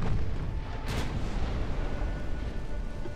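Heavy naval gunfire in the warship game Ultimate Admiral Dreadnoughts, a battleship under light cruiser fire, heard as a dense, sustained low rumble with one sharper boom near the start.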